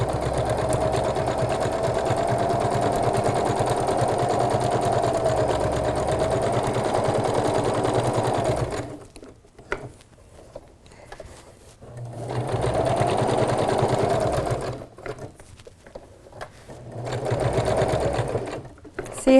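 A sewing machine stitches steadily around the sharp curve of a heart-shaped pillow in a long continuous run, then pauses and resumes in shorter bursts, fairly quiet and close.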